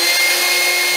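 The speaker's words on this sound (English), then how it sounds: "Then you just flip on the pump," A small air pump runs on a homemade vacuum filter rig with aquarium tubing, giving a short, steady, close hum with a thin whine and no pauses.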